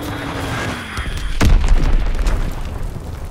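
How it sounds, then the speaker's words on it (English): A heavy Azon bomb blast booms in a Call of Duty WWII team deathmatch, one loud deep explosion with a rumbling tail over ongoing battle noise. "Dropping Azon bomb."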